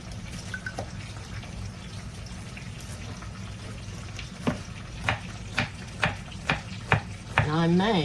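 Potatoes and celery fry in a skillet with a steady low sizzle, while a utensil scrapes and stirs in several distinct strokes toward the end, close by.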